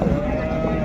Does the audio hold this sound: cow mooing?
yes